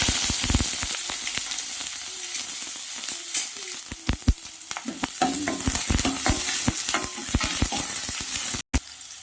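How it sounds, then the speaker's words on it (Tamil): Chopped onions sizzle and crackle in hot oil for dry fish thokku, with frequent sharp pops and stirring scrapes over a steady frying hiss. "இப்போ நறுக்கி வச்சிருக்கிற வெங்காயம் போட்டுக்கலாம்."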